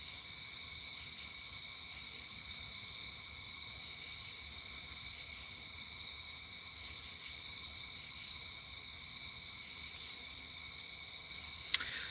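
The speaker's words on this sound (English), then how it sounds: "You're hearing the crickets, the katydids, the gentle hum of a early fall evening Northeastern New Jersey." Crickets and katydids trill steadily on an early fall evening in northeastern New Jersey, a faint, unbroken high-pitched chorus that fills the whole stretch, with a soft tick near the end.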